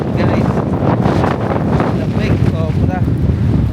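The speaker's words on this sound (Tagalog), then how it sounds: "Grabe, ang lakas ng hangin." Strong gusting wind roars straight into the microphone outdoors in the USA, a loud continuous rumbling buffet that barely lets up through the clip.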